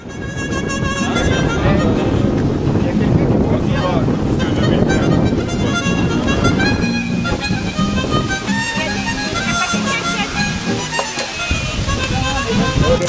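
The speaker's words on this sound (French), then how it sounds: "Le vent sera très violent pendant tout le voyage." Strong wind in Patagonia roars steadily and loudly, buffeting the microphone without letup and mixing with a dense wash of other sound throughout.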